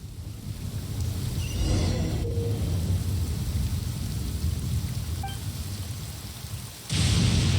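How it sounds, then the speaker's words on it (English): Steady rain in the video game Genshin Impact, a continuous hiss of falling water with a few brief game tones and an abrupt burst of louder rain near the end. "Raining. Now my uniform will get all wet."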